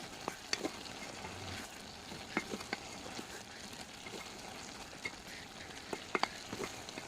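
Snake gourd, potato and lentils sauté with turmeric and coriander powder in a pan, a soft steady sizzle with occasional sharp crackles and stirring scrapes, close and low in level.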